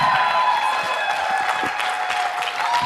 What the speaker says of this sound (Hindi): Everybody, let's stand and clap together